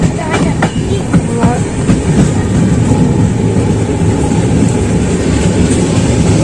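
Kanyakumari superfast express train pulling into Villupuram Junction, loud continuous rumble of wheels with rhythmic clickety-clack over rail joints, heard from on board with faint voices in the background.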